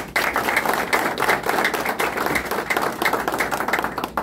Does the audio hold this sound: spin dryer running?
no